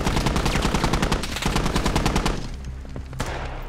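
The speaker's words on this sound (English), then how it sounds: "No, it's a machine gun. It's an RWS, guys." Loud, sustained machine gun fire in a first-person shooter video game, a rapid even rattle of shots that ends abruptly and leaves a lower rumbling background.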